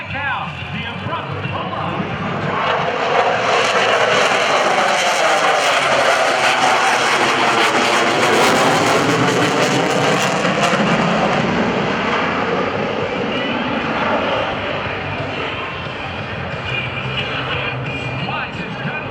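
An F/A-18F Super Hornet jet at the 2012 Blue Angels Homecoming airshow roars past, its loud engine noise swelling and sweeping down in pitch as it passes, while an announcer talks over it.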